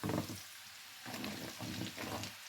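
Onions fry in a pan before groundnut and carrots go in for a carrot beans stew, a soft steady sizzle with faint stirring scrapes, no talk.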